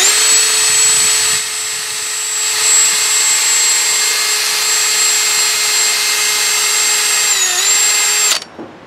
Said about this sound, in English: I got a little brush on the end of my drill here.